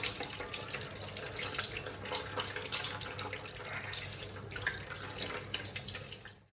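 Water pours steadily from an opened kitchen tap, a close, continuous splashing rush that stops abruptly at the end.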